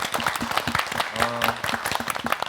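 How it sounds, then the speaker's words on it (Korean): Steady applause from a church gathering, a dense patter of many hands clapping at once, with a voice briefly rising over it. "격려의 박수 우리 함께 좀 드릴게요."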